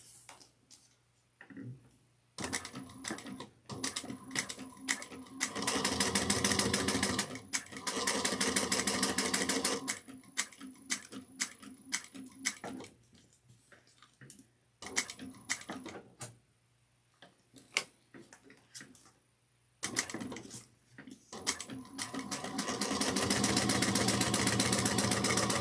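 A sewing machine stitches around the body of a bucket bag in repeated close, rapid whirring runs. Short pauses and quiet clicks separate the runs.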